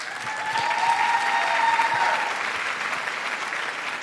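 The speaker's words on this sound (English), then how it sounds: "A big round of applause for her Guru." Steady audience applause at a Bharatanatyam arangetram greeting the dancer's guru as she comes on stage, a dense, even wash of clapping from a large hall crowd that holds for several seconds before easing slightly.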